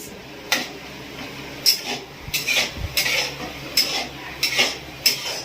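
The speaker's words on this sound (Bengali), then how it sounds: "রান্না করছে খুন্তি নাড়ছে কত সুন্দরভাবে" A metal spatula scraping and stirring food in a cooking pan over a gas flame, with repeated rhythmic clinks and scrapes roughly every second, close and clear with a faint background hum.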